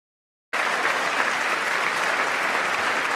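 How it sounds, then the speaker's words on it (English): A large audience claps during a State of the Union speech, the applause bursting in abruptly after a brief silence and continuing as a dense, even, loud roar of hands. "I want to do an edit where I just remove all the clapping."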